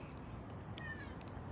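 A ragdoll cat meows outdoors, a soft single call heard faintly at a distance over quiet background noise.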